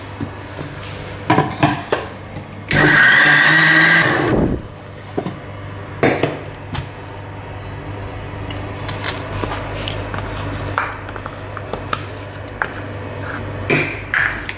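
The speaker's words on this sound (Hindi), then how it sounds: "और पीसेंगे हम इसको" Mixer grinder blending coconut chutney with a little added water, a loud dense whir bursting for about two seconds midway, surrounded by scattered kitchen clatter and knocks.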